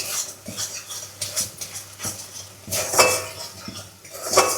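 Prawns being sautéed with a spoonful of sugar in a pan for a Bengali prawn dish, heard as irregular metallic scrapes and clinks of a utensil against the pan over a low sizzle, close and fairly loud.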